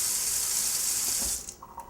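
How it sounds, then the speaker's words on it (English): Water runs from a tap in a steady, close hissing stream, then it is shut off and a few drips and splashes follow. "Just going to your tap for clean water."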